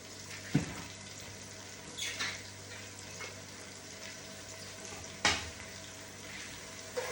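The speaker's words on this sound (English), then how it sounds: "So we will allow this now to fry a little bit to almost golden brown" Ingredients for Afang soup fry quietly in a pan with a soft, steady sizzle, broken by a few sharp clinks and scrapes of stirring. No one talks.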